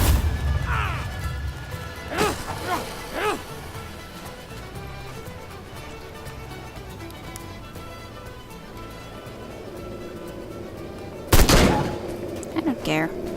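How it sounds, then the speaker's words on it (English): Gunfire from the video game Sang-Froid: a few sharp shots early on and another burst near the end, with a quieter game backdrop between them. "I suppose I'm just gonna do and shoot them now."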